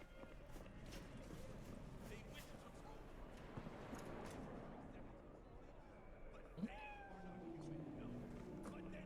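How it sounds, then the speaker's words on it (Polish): A cat meows a few times amid busy background noise and scattered footstep-like rustling in Cyberpunk 2077, the cries short and fairly faint. "Kot, słyszę, ej, słyszę."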